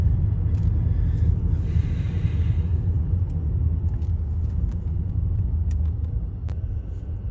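A car rolls into a mosque parking lot at Virginia Beach for Friday prayer, with a steady, loud low engine and road rumble throughout and a few faint higher clicks and rattles on top, no talking.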